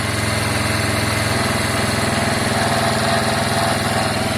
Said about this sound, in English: It seems okay now. It's idling much better.